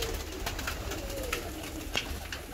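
Fancy pigeons coo steadily in a packed loft, soft overlapping calls over a dense background hum of many birds, with a few sharper flutters or knocks.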